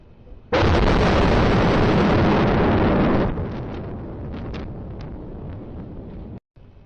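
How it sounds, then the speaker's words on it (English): A massive explosion from a drone strike on a defense plant in Vladimir Oblast erupts as a loud, sustained roar for several seconds, then fades into a lingering rumble, caught from a distance on a doorstep security camera. "we can hear that massive explosion after we see this lighting up of the skies here"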